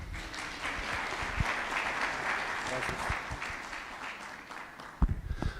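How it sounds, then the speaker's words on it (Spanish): A church congregation in La Paz, Bolivia applauds to welcome a pastor, a sustained wash of many hands clapping, fairly distant and even, with a few louder close claps near the end. "Le recibimos con fuertes aplausos"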